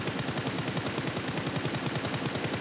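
Rapid automatic gunfire in PUBG Mobile, a steady stream of fast evenly spaced shots rattling at close range for a couple of seconds.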